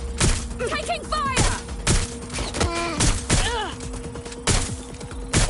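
Gunfire in the video game Watch Dogs Legion: repeated sharp shots and heavy thuds in uneven bursts, mixed with whooshing effects and other game sounds, loud and close.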